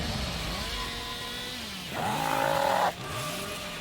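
A chainsaw revs in a video game, a steady buzzing drone that surges louder for about a second near the middle before dropping back, with game sounds layered around it.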